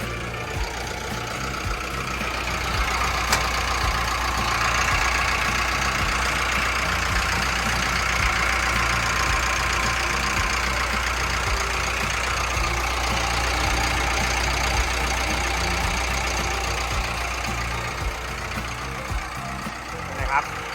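The Caterpillar 3114 diesel engine of a Caterpillar 924F wheel loader idles with a steady low rumble throughout, while someone talks over it close by.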